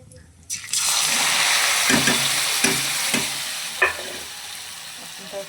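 A sudden loud sizzle as a spiced yogurt mixture hits a hot kadhai with okra, then continuous frying hiss with several scraping stir sounds close up.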